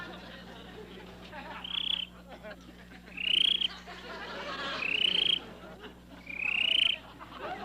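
A performer on a country comedy variety show imitates a frog with his voice, giving three short, high, chirping croaks at an even pace against a quiet background hum.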